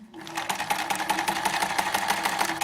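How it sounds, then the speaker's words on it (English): A sewing machine stitches half-square-triangle quilt fabric pieces in a brief, fast, even run of mechanical rattling that starts abruptly and holds steady. "And then we're going to come to our machine. And sew."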